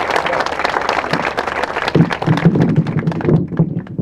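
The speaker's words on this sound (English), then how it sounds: "Please give a round of applause for these individuals." A crowd at an outdoor community memorial walk claps, starting as a dense burst of applause and then thinning into scattered individual claps with some thuds near the microphone.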